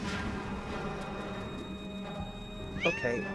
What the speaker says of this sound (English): there's a cat on me